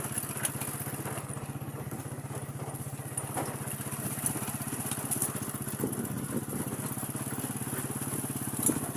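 A motorized tricycle's engine running steadily nearby, a low rapid putter with a constant drone and occasional clatter, moderately faint against outdoor background noise.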